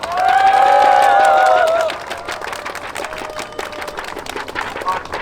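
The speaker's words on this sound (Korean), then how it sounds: "우리가 승리할 수 있도록 크게 한번 박수 한번 외치겠습니다." Crowd applause at a protest rally outside the MBC broadcaster: a shrill sustained tone rings for the first two seconds, then a broad, steady wash of clapping from a large outdoor crowd continues to the end.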